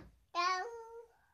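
A young child imitates a cat's meow: a single short, bright, drawn-out vocal mew, close and fairly quiet, with no other sound around it.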